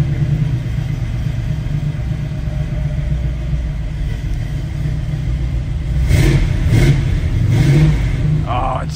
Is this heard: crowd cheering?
no